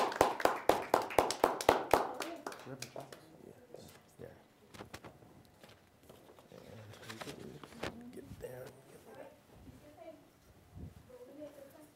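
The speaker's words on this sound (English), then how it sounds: "Let's give them a round of applause." Loud applause from a crowd at a case study competition awards ceremony for about two seconds, then fading into chatter and scattered voices of people talking.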